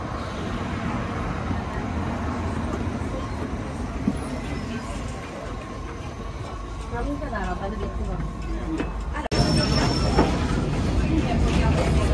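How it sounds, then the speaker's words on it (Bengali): An old, small yellow tram runs through Lisbon streets, heard from on board as a steady, loud rumble and rattle with street noise around it and a sharp jolt near the end, and people talk nearby. "আমরা এখন এই ছোট্ট হলুদ আইকনিক ট্রামটায় করে উঠে ঘুরতে বেরোচ্ছি।"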